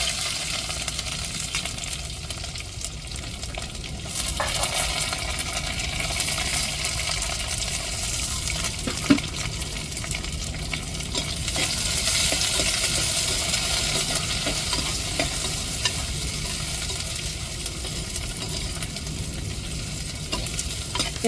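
Onions sizzling in hot oil with crackling mustard seeds and curry leaves in a clay pot for an egg curry, steady close frying hiss with occasional stirring scrapes and a single sharp clink.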